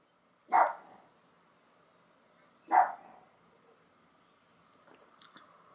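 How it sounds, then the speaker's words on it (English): A single dog barks twice, two sharp separate yaps about two seconds apart, fairly close, with faint clicks and knocks afterwards in a quiet room. "my dog's barking"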